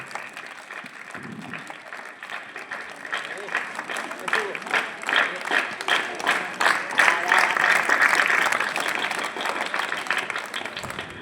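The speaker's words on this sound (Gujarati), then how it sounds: "આપણે જોરદાર તાળીઓ સાથે આપણા વિદ્યાર્થીઓને વધાવીએ" Loud, sustained applause for students at a village primary school's Republic Day prize-giving, swelling into rhythmic clapping that peaks midway and then fades, with some voices mixed in.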